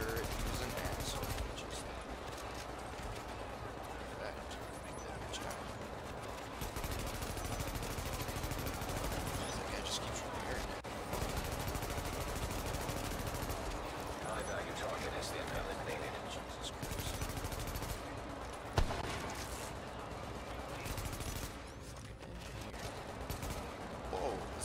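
In The Division video game, an automated turret lets out bursts of gunfire amid steady game noise, while a player talks over the action.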